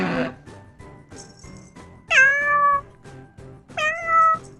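A cat meows twice, each call a clear rising-then-falling mew, with a short brighter sound at the start and quiet gaps between calls.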